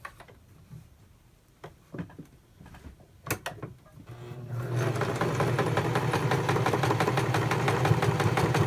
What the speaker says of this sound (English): and you just stitch them together.